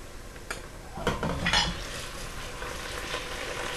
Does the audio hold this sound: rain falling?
no